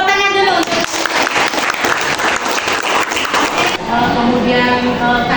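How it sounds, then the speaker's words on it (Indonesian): Students in a classroom burst into brief, loud applause lasting a few seconds, with a teacher's voice heard before and after the clapping. "Tepuk tangan dulu."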